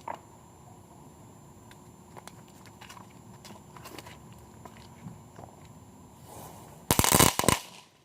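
Thrown fireworks crack open in a quick, loud burst of sharp pops near the end, after a stretch of faint outdoor ambience with scattered light clicks.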